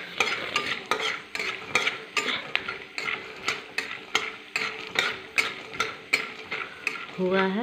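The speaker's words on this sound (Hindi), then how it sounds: "पहले हम मूँगफली को अच्छे से तेल में डाल लेंगे" Peanuts fry in oil for chivda, a loud bubbling sizzle cut by regular, rhythmic scraping strokes of a spoon against the pan, about two per second; a voice speaks briefly.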